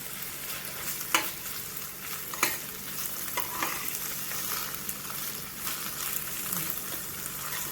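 Curry leaves and ginger-garlic paste frying in a pan for a dry moong dish, a steady close sizzle broken by a few sharp stirring clicks.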